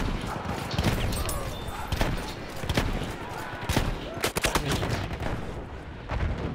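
Close shotgun fire in Battlefield 1 multiplayer: a dense run of sharp, loud shots mixed with other gunfire and blasts in a busy battlefield din.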